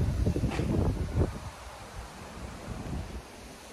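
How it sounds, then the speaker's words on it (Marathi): Strong winter wind in a London garden, loud gusts buffeting the microphone at first and then easing to a steadier rushing bluster. "इथे तुम्ही पाहू शकतात मागे खूप वारा सुटलाय"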